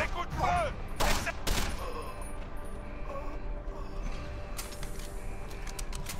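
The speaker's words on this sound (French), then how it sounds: "Des coups de feu." Sharp gunshots in the video game Deus Ex: Human Revolution crack out in a few separate bursts, then a rapid volley of shots follows over a low, busy background.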